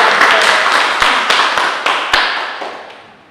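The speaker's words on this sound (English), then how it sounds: "Do you mind if we join in a round of applause?" A small group at a board of selectmen meeting claps in a round of applause, with distinct close claps over a broad patter that gradually fades away.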